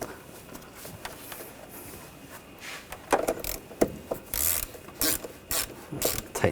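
A ratchet tightens the positive cable nut on the starter of a 2004-2012 Chevrolet Colorado 3.7L, giving close, irregular bursts of clicking pawl strokes that get louder and denser partway through, with no talking.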